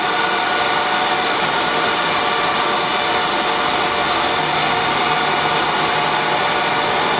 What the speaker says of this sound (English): This is the sound of two HP ProLiant DL380s.